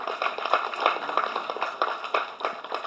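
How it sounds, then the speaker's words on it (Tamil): Audience applause at a tribute speech honoring the late actor Vivek, a steady wash of many hands clapping fairly close and continuous throughout, with no speech over it. "நீங்கள் எல்லாரும் ஒரு கைத்தட்டல் கொடுங்க ப்ளீஸ்"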